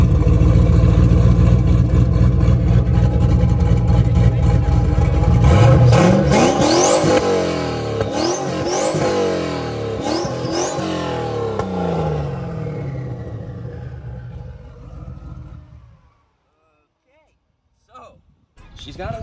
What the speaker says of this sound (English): Let me start it for you real quick, and maybe you guys can tell me what's wrong with it.